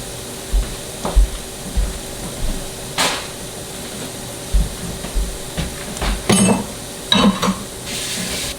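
Onions frying in butter in a Dutch oven sizzle in a low steady hiss, broken by occasional clacks and scrapes of a utensil against the pot, with no voices.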